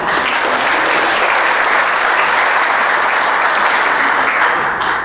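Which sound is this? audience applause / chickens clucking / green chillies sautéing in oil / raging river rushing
audience applause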